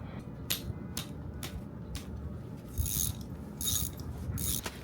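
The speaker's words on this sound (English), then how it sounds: "Now, it's time for the cool part, which is unbolting all 18 of these bolts." A ratchet wrench clicks in repeated short bursts while loosening bolts on a rotary engine outdoors in the dirt, loud and close, with no talking.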